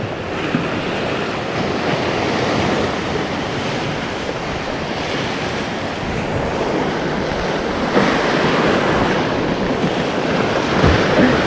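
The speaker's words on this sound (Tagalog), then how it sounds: "Lalaki ng alon mga bro." Loud, continuous crashing of big waves on a lake mixed with strong wind buffeting the microphone, rolling on without a break.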